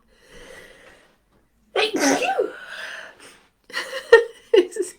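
A single loud sneeze bursts out after a quiet breath, followed by a few sniffs and short gasping breaths close to the microphone.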